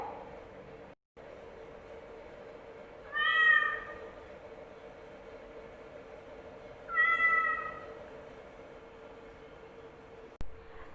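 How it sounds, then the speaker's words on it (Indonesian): A domestic cat meows twice, each call a short, clear, tonal mew separated by a few seconds, heard alone over a faint steady background hum. "Itu suara kucing."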